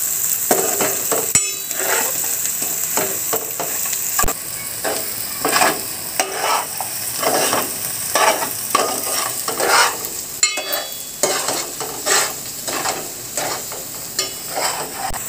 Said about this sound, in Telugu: దీన్ని కొంచెం వేగనిద్దాం ఫ్రెండ్స్.